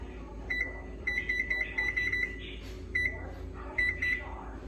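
An oven's electronic control panel beeps while the bake temperature and timer are set, a string of short, sharp tones in quick clusters over a low kitchen hum.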